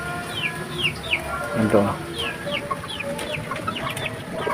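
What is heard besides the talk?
chickens clucking while being fed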